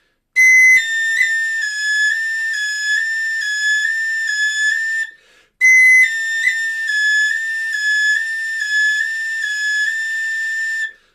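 A tin whistle plays St Anne's Reel in two loud, bright phrases of quick ornamented notes, including a half-holed note, separated by a short pause, solo and close with no voices.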